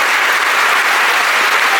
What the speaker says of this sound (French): J'aimerais qu'on applaudisse mon équipe au son